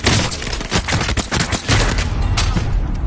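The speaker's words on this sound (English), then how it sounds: "Receiving hostile fire." Hostile gunfire in an online shooter game, a dense rattle of overlapping gunshots and bursts firing continuously and loudly for the whole stretch, with some booming impacts mixed in.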